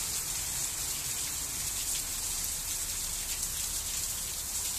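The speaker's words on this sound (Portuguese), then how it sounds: "É chuva que não acaba mais" Heavy rain pours down steadily in a continuous dense hiss, with no breaks and no voices.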